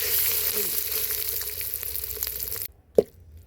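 Cumin, mustard seeds, dried red chillies, chana dal, urad dal and curry leaves fry in hot oil for a tempering. A steady, loud sizzle runs for nearly three seconds, then cuts off abruptly, followed by a single dull knock.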